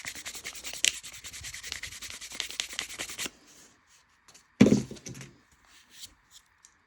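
Sandpaper rubs briskly along a leather edge in a dense, steady scratching run for about three seconds, then pauses before a louder single scuff and a few faint brushing strokes.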